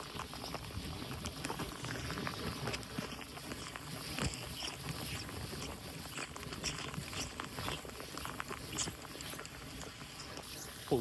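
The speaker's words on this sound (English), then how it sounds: "it's really raining now" Heavy rain drums on a truck roof at a muddy fishing spot on a foggy morning, a dense continuous patter of close drops with no voices.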